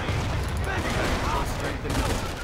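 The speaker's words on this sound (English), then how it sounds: "let's shoot at that machine gun" Company of Heroes battle sounds, dense crackling gunfire and machine-gun bursts, fill a busy continuous din, with a voice speaking over the game audio.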